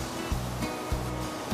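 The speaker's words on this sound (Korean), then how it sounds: "이 물소리 들으십니까? 아, 이게 피아골에서 내려오는 물 같습니다" Mountain stream water running down from the Piagol valley on Jirisan in summer, a constant close rush of flowing water with a few soft thumps.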